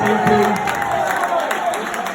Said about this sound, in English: Give them a massive round of applause for the florist, please.